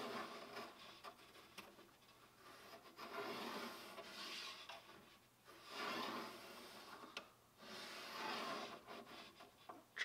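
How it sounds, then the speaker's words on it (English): A pencil traces a line along a template on reclaimed wood for a tool chest, soft scratchy rubbing strokes repeating in several slow passes, close and quiet. "I'm just going to do my best to trace a line back there."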